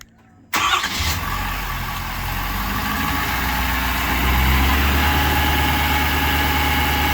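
A 2020–2022 Ford Powerstroke diesel pickup engine cranks and fires up after a brief silence, then settles into a steady, loud, rumbling high idle around 1200 rpm close by.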